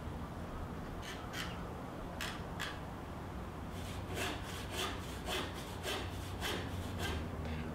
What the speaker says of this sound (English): If your kerf starts to close up on a rip cut, you can just tap a wedge in at the beginning of the cut just to open it up so your saw isn't jammed.